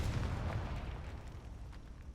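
A Confringo fire spell bursts in the Hogwarts Legacy video game, a loud, dense rumbling explosion with a heavy low boom that stays thick and roaring for a couple of seconds, with no talk over it.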